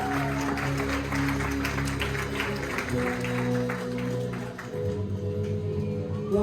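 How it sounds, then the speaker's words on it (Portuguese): A church congregation claps at a Spanish-language worship service, a moderate, steady wash of applause over sustained low organ or keyboard tones that shift chords partway through. "Puede dar un aplauso al Señor"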